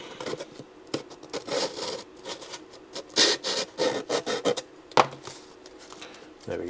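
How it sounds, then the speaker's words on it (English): A small sanding stick rubs against a part of a Multiplex Funjet Ultra 2 model plane in a series of short, irregular scratchy strokes, close and fairly quiet, with brief pauses between bursts. "Let's get one of my little sanding sticks."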